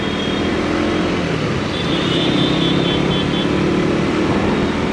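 A new 2024 KTM 125 motorcycle being ridden, its engine giving a steady, loud, continuous drone mixed with rushing wind noise, with no talking.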